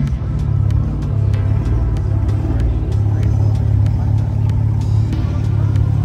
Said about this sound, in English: I'm gonna get a few cars leaving.